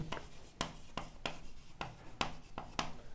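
Chalk or marker strokes on a classroom board during a chemistry lesson, sharp rhythmic taps and scratches roughly every half second, close and fairly quiet.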